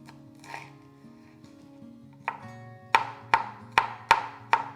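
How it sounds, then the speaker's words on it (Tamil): Green chillies being finely chopped on a board, a quick run of five or six sharp, evenly spaced knife strikes near the end, with softer handling sounds and a low hum earlier. "2 பச்சை மிளகா, அதையும் வந்து பொடியாக நறுக்கிக்கலாம்."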